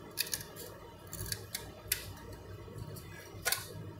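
Scissors snipping through paper or card for a handmade birthday gift craft, a few sharp crisp cuts spaced irregularly against a quiet background.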